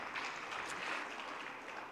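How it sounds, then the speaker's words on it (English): A church congregation applauds together, a steady dense wash of many hands clapping for about two seconds with no voices standing out. "Clap for that."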